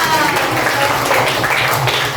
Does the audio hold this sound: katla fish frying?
no